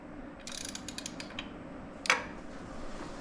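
A ratchet snugs a spark plug into an old scooter engine, giving a fast run of small metallic clicks followed by one sharper clack, close and clear with no talk.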